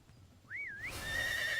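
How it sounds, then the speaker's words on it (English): A horse in the video game Chrono Odyssey lets out a short, rising and falling whinny, then a brighter burst of hooves and movement, all fairly close with no speech over it. "Alright, horsey."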